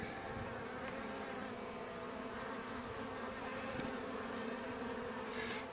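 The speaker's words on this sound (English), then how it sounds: "we got a bunch of bees in here" Dense, steady buzzing of many small bees crowded inside an opened hive box, a continuous close drone holding even for several seconds with no voices.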